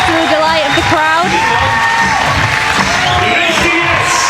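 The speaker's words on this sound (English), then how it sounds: "Much to the delight of the crowd." Crowd cheering and whooping at a European Championship bouldering semi-final in Innsbruck, a loud sustained roar of voices that runs throughout under a commentator's speech.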